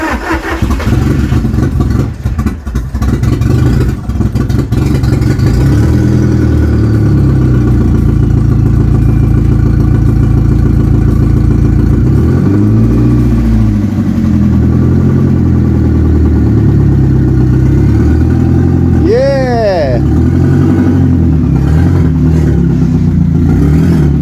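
An ABT-tuned Audi TT runs loud through its exhaust, rough and steady at first, then revving in a few swelling bursts, with a sharp rising sweep near the end.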